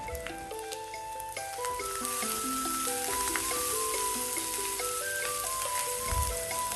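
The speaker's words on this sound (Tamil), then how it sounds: "ஒரு நிமிஷம் லோ ஃப்ளேம்லேயே வச்சு வதக்கிக்கலாம்." Green chilli and ginger sautéing on a low flame for rava idli: a steady soft sizzle with light crackling pops runs throughout, fairly close, with a faint melodic tone in the background and no talk.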